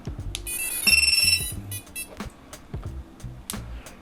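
Beeper on a Cinerace20 V2 cinewhoop drone sounds as a battery is plugged in, a bright, steady high tone of about half a second in the middle, with scattered handling clicks and bumps around it.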